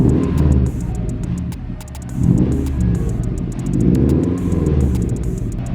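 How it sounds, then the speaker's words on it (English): A Subaru WRX fitted with a Nameless 4-inch axleback exhaust revs repeatedly, deep rumbling swells rising and falling in a steady rhythm, loud and close with no talk over it. "Now all you need to do is put your foot on the gas to rev it."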